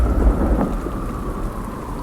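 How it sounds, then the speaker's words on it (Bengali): Steady heavy rain with a deep rumble of thunder rolls through as a storm effect in a haunted ghost audio story, loud and continuous without any voice. "প্রচণ্ড শব্দে বজ্রপাত হলো।"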